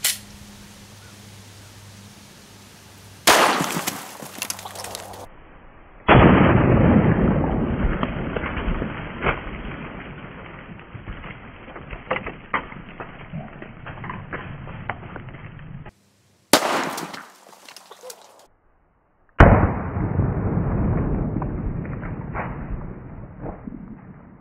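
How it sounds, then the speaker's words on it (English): A 9mm G2 Research RIP round fired into a watermelon: loud, sharp reports separated by gaps, with noisy, rumbling stretches and brief near-silences between them. "I'm going to try the rip round on a watermelon."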